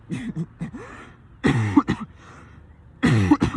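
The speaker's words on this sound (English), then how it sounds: "Good cough." Several harsh coughs come close up in bursts, with two strong coughing fits separated by quieter breathing and throaty noises.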